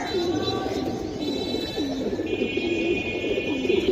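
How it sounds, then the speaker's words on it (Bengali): A male and female pair of Giribaz pigeons coo in repeated soft, rolling calls at a steady pace, close by, over a busy background murmur. "অস্থির কবুতর, দুইটা কবুতর অস্থির।"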